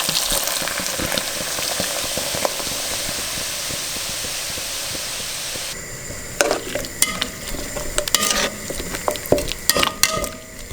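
A pan of beef stew sizzles and fries loudly as Imperial Stout beer is poured in to deglaze it, a steady hissing that drops at mid-point into softer bubbling broken by sharp spits and clatters.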